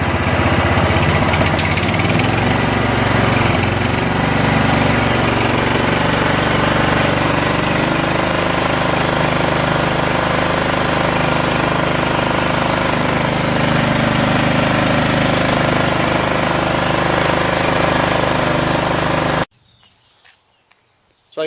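A Troy-Bilt Suburban riding mower with a 14 HP Kohler Command engine runs steadily close by, a loud continuous drone that holds for about twenty seconds and then cuts off abruptly.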